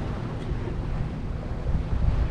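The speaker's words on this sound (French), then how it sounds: "On a un peu plus de vent, là on a 10 nœuds" Steady low rumbling wind of about 10 knots buffeting the microphone at sea between Groix and Belle-Île, with a soft wash of water beneath it, no voices.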